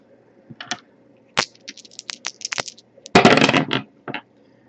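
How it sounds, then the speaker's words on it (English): Astrology dice are rolled on a table at a tarot reading. Sharp, scattered clicks and taps build to a dense clatter, then one last tap. "We're actually going to start the reading off by rolling those astrology dice we have in front of us"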